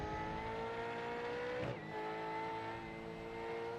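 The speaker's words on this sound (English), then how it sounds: "Really putting the pressure on with the downshifts there" Race car engine in a V8 sim racing game at Donnington, a steady high drone with a sharp break midway as it downshifts, then droning on.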